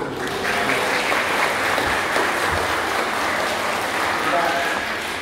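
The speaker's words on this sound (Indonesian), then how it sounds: "anak-anak tepuk tangan" Children applaud at an Indonesian church Independence Day celebration, a steady, dense wash of clapping that holds loud and even throughout with no pauses.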